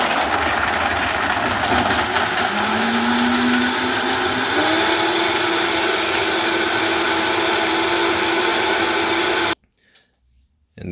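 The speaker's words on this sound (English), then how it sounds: "let's cut the blender on" A blender whirs loudly and steadily up close as it grinds almonds with water for almond milk, its pitch climbing partway through before the motor cuts off abruptly near the end.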